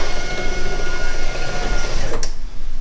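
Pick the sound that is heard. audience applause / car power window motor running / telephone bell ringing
car power window motor running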